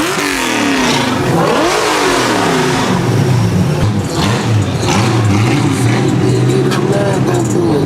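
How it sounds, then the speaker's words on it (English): A 1967 Ford Mustang with a 5-liter engine revs hard up close, loud rising and falling throttle sweeps over a rumbling idle, with someone speaking over the engine. "This is my first ever car, 67 Ford Mustang."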